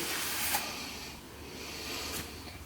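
Electrical parts cleaner sprays onto the sheaves of a Yamaha Grizzly secondary clutch in a workshop: a steady, close broadband hiss lasting a few seconds, swelling slightly near the end, with no talking.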